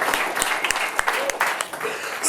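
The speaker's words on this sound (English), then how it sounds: "So if we could all stand up and give Josh a round of applause" Scattered, separate hand claps from an audience at a Startup Grind Detroit event, a short burst of uneven, fairly close claps mixed with background chatter.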